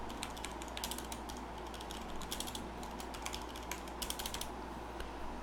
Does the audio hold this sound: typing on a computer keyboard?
yes